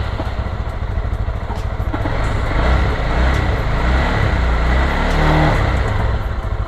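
A used motorcycle for sale at a dealer idles and is revved, a loud, close, steady low engine rumble that swells slightly midway and holds, with no talking over it.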